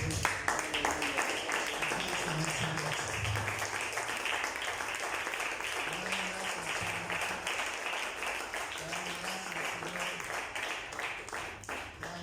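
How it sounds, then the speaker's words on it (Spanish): A church congregation applauds during an evening service, sustained crowd clapping with a voice speaking or calling out intermittently underneath. "Denle un fuerte aplauso."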